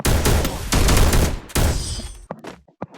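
Rapid bursts of gunfire in the mobile shooter game Free Fire, loud and dense with a longer volley, then a few scattered single shots as it tapers off.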